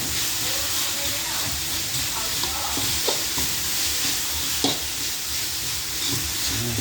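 Thai basil stir-fry being stirred and mixed in a hot pan, a steady hissing sizzle broken by repeated scraping clatters of the spatula, close and loud.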